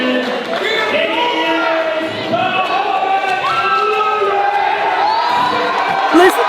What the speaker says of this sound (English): Listen to this crowd, a sold out 450 strong here at the Colac RSL.